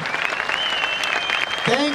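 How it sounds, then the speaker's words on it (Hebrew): An audience claps for dancers at an international folklore festival in Haifa, a dense steady roar of applause throughout, with a voice calling out over it and a whistle-like tone near the end. "תנו להם לחיות כפיים!"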